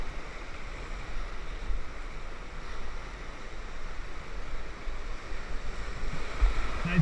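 Rushing whitewater of the Falls of the James, roaring steadily as a raft runs the rapids on a river trip, a dense continuous wash of water with low rumble and wind buffeting the microphone.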